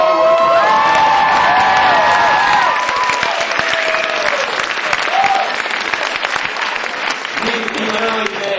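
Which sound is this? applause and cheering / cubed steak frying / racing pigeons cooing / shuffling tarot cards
applause and cheering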